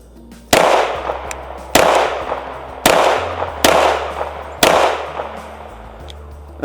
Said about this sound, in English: So those were pretty quick shots.